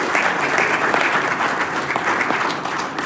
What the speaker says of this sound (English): All right, let's give Jill a big round of applause